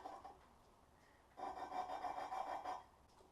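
Hand lapping of valves on their seats in a Jeep 3.8L engine: quiet gritty rubbing, faint at first, then a steady louder back-and-forth scraping for about a second and a half, heard close with no talking.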